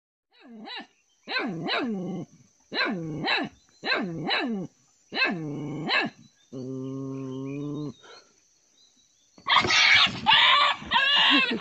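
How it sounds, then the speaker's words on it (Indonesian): A dog barks in a steady series of loud, close yelps, then lets out a drawn-out, wavering howl that sounds like a yelled human phrase, followed by a few harsher, noisier barks. "Detik-detik mencekam seekor anjing bisa berbicara, anjingnya berteriak oh ma"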